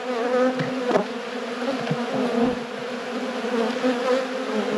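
Honey bees buzz steadily throughout an open hive during a late-season inspection, a dense droning hum that stays close and continuous, with a few louder passes as individual bees fly near.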